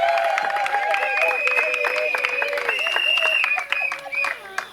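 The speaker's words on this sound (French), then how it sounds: "Si on peut l'encourager par des acclamations." Wedding guests at a civil marriage ceremony cheer and clap, with ululating, wavering voices riding over scattered hand claps, loud and close, continuing steadily before thinning out near the end.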